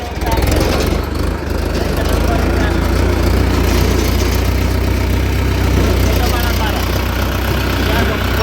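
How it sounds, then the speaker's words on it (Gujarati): A tractor engine idles loudly and steadily with a deep continuous rumble throughout, as people talk over it. "આપણે ટ્રેક્ટરમાં ચડી ગયા હોય"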